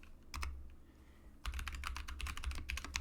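Terminal commands are typed on a computer keyboard on a Debian system: a couple of isolated keystrokes, a short pause, then a quick steady run of crisp, close key clicks.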